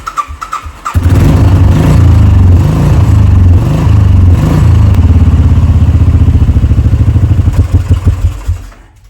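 A Royal Enfield Bullet 500 motorcycle engine cranks over with a few rhythmic turning pulses, then catches and settles into a loud, close, steady thumping idle that rises briefly before cutting off near the end.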